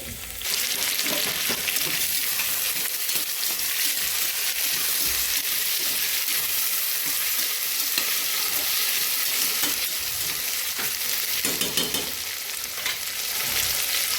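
Potato, ginger, carrot, tomato and peanuts fry in a pan with a loud, continuous sizzle and hiss, stirred now and then, with no talking.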